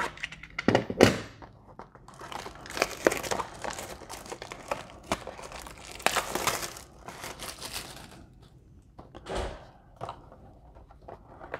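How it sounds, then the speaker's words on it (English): A box cutter slicing open a cardboard-and-plastic blaster box of 2020 Panini Prestige Football trading cards, heard close up as scattered crinkling, scraping and tearing with several sharp clicks and thunks spread over about ten seconds. "Get the trusty box cutter here and let's rip into it."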